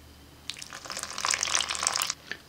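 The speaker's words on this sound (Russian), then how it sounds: "теперь увлажняем нашу прикормку, добавляем постепенно воды." Water poured gradually into a winter fishing groundbait mix of breadcrumbs and spice, a soft close trickle and splash that builds over about a second and a half and then tapers off, quiet and without voices.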